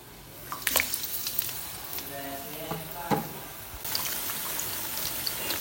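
Cauliflower pakoras frying in hot oil give a steady broadband sizzle. A few brief louder crackles and stirring touches come through, and a voice is faintly present at moments.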